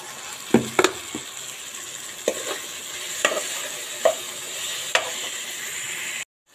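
Chicken pieces with ginger garlic paste sizzling in a pan, a steady frying hiss punctuated by intermittent scrapes and clanks of stirring, ending abruptly.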